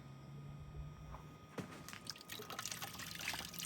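Hands being washed in a blue bucket of water outdoors, with soft splashing and trickling that starts faintly and grows busier after a sharper splash partway through.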